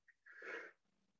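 A single sneeze indoors, with a brief intake before a sharp burst and a short breathy tail, faint.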